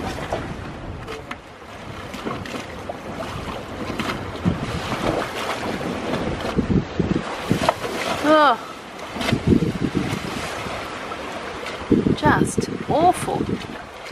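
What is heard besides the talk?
strong southwesterly wind at 38 knots around sailboat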